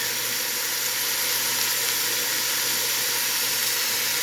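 Ground beef frying in a pan with onions and garlic, a steady close sizzle and hiss with no break.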